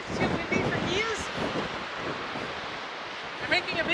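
Gusty wind at Arthur's Pass in New Zealand, a rushing roar buffeting the microphone and swelling and easing, with people talking over it.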